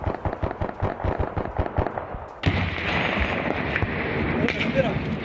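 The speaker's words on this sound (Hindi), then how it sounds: "अफगान सेना लगातार फायरिंग करती रही।" Rapid bursts of gunfire from the Afghan army in a border area of Khost province crack in a fast, regular rhythm, then give way to a denser, rumbling barrage of continuous firing.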